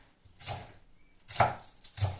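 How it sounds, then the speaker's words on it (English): A knife chops sandwich ingredients on a board in three distinct, close thuds spaced about a second apart, with no voices. "Chopping them up as big or as small as you want."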